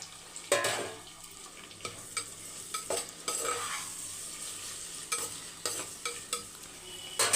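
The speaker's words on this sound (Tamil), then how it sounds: "பூண்டு பாதி வதங்கினோடனே இடித்து வச்ச சின்ன வெங்காயத்தை சேர்த்துக்கோங்க" Crushed shallots and garlic sautéing in a pan for a Kerala-style fish curry meal, a low sizzle broken by repeated scraping stirs of a spoon against the pan, irregular and close by, with no talking.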